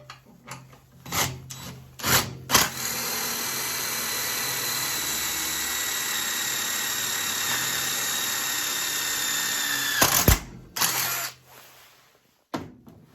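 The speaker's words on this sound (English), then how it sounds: "So you drill your hole," A drill bores a rivet hole into the front of a wood cookstove under restoration, running as one steady, loud whine for about seven seconds, with a few short bursts and knocks before and after.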